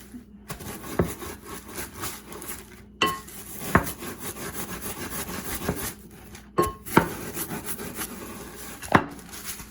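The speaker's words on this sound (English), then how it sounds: "as you can see, you can get them very, very finely crushed" Crackers are crushed by hand into fine crumbs for crabcakes, producing repeated rubbing, grinding scrapes with occasional sharper knocks against a hard surface, close and steady without speech.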